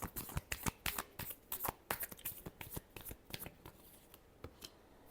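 Tarot cards being shuffled by hand: a rapid run of crisp riffling clicks and flutters, close and fairly quiet, thinning out toward the end with no voices.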